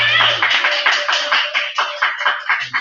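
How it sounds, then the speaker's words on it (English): An open mic crowd applauds a performer, close and fairly loud clapping in uneven surges that fade and swell over a few seconds. "please clap it up for our lovely friend Connor"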